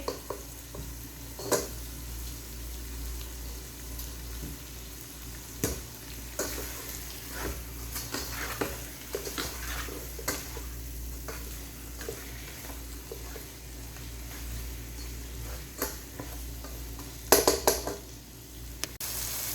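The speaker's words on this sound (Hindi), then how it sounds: "इसको अच्छे तरीके से बस मैं ऐसे मिक्स करती रहूँगी ताकि तो ये अच्छे तरीके से फ्राई हो जाए गोश्त भी हमारा" Chicken and spices for haleem stirred and fried in a pan, with a steady close sizzle and repeated scraping clinks of a spoon against the pan throughout.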